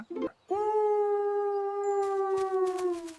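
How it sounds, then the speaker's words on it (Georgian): A long, steady wolf howl from a children's animation rises and holds a sustained tone for several seconds, loud and close, after a brief rustle at the start. "მგელი."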